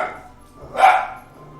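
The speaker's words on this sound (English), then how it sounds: "Fucking dog." A single dog bark rings out near the end of a stretch of quiet background, loud and fairly close, with no talking over it.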